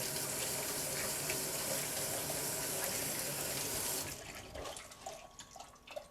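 Seaweed is rubbed and washed by hand under a steady, loud stream of tap water in a kitchen sink, the gush continuous for about four seconds before it cuts off, leaving softer drips and handling splashes.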